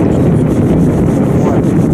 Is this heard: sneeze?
no